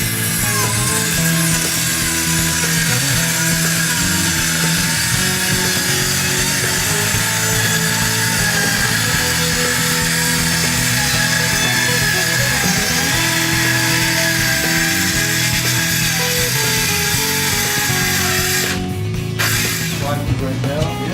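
A power saw cuts plywood sheets for a renovation, a loud continuous grinding drone running steadily for about nineteen seconds before it cuts out, with a few brief knocks at the end.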